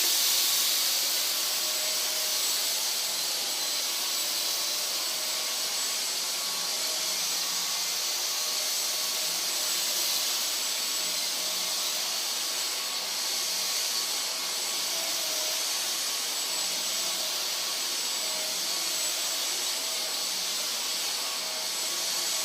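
Dyson DC44 cordless vacuum on its normal setting picking up a spill, a close, steady high-pitched whoosh and hiss that runs unbroken throughout with no talking.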